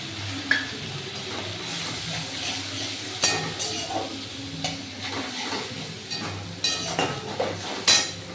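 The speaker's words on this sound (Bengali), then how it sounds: "এবার আস্তে করে টক দইটা আমি এর মধ্যে অ্যাড করলাম" Whisked sour yogurt poured into a hot pan for a Bengali dish, soft sizzling and frying underneath scattered clinks and stirring scrapes of a utensil against the pan.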